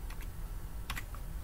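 Computer keyboard typed on in a Windows 10 setting, a few quick soft clicks in two short clusters over a low background hum.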